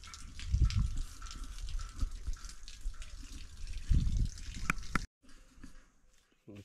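Water gushes hard from a tap fed by a full tank, a steady splashing rush with heavier surges, before it cuts off into a quieter trickle.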